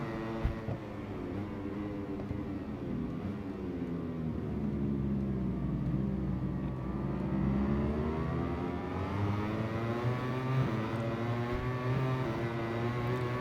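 Motorcycle engines racing in the MotoGP 21 video game, a steady high-revving whine with shifting pitch as the bikes accelerate and brake through corners, continuous and fairly loud with no talk.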